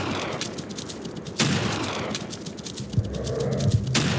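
Rifle shots in the Wii Deer Drive hunting game, several sharp cracks spaced a second or so apart over a busy, noisy game soundtrack.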